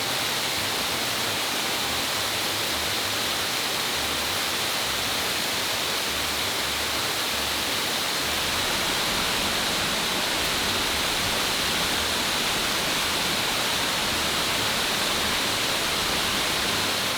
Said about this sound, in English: you basically have both cascades coming at you from a 90-degree angle